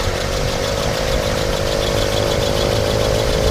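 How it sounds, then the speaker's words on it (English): A 1967 Mercury Cougar XR7 engine runs at a steady idle, loud and close, with a constant mechanical hum and faint belt whine from a smog pump, no voices. "We'll go ahead and fire it up real fast here so you can hear it run."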